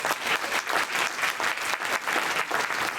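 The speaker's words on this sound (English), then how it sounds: "Let's have a round of applause" An audience at a talk event breaks into applause, a dense, continuous clatter of many hands clapping, loud and sustained across the whole stretch.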